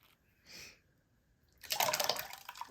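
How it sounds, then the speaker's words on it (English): Paper pulp with a thick oatmeal consistency poured into a container half full of water, a soft splash then a longer sloshing pour, close and fairly quiet. "just going to dump that all in"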